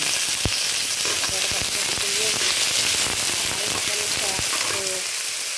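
Onion added to garlic frying in a pan, a loud continuous sizzle peppered with sharp crackles and pops, with a faint voice briefly in the background.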